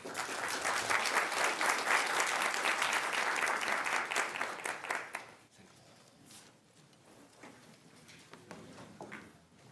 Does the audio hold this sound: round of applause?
yes